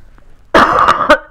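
A person coughs several times in quick succession, close and loud, after a moment of quiet.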